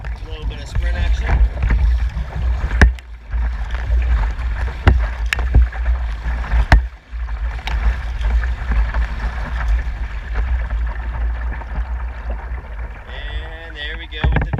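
Rapid paddle strokes drive a Jackson Kayak Traverse 10 at a sprint, water rushing and splashing loudly against the hull amid steady wind noise.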